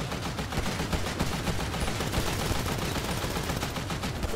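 Dense, sustained automatic gunfire in a GTA 5 Online heist shootout, rapid overlapping shots at steady loudness with no pauses, close and continuous throughout.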